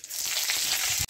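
Mustard seeds crackle and sizzle in hot oil in a pan for a tapioca egg fry, a steady dense spitting hiss that cuts off abruptly at the end.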